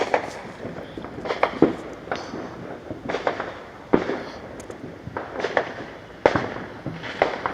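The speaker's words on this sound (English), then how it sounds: "we are looking at the fireworks" Fireworks go off in scattered sharp bangs and crackles at a distance, irregular pops spread across the stretch over a faint outdoor background.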